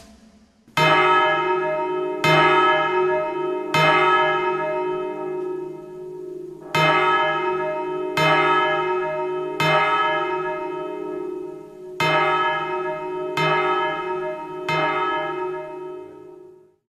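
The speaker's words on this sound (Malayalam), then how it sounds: "സന്ധ്യാവാക്കിന് പള്ളിയിൽ എന്തിനു മണിയടിക്കുന്നു?" A church bell rings at dusk in clear, resonant single strokes spaced a second or two apart, each ringing on and decaying before the next. There are about ten loud, close strikes in irregular groups, with nothing else heard.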